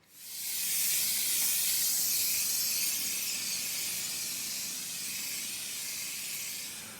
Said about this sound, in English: To spray this, I'm just going to hang it from a little bit of MIG wire, spray both sides